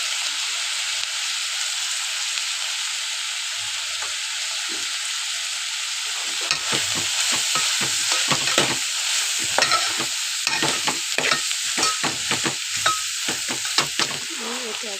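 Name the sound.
onion and spices frying and being stirred in a pan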